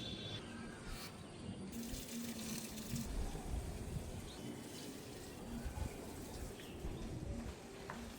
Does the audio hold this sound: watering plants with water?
yes